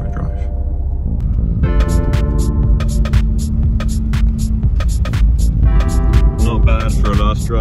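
A car pulling away on a drive, with a steady low engine hum and throbbing road drone; people talk over it and music-like tones ring through.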